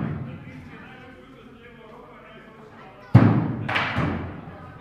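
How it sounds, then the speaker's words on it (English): In a WATL axe throwing league, axes strike a wooden target. Two sharp, solid thuds land close together after a stretch of talking. "we had to warm up and we had to throw the axes several"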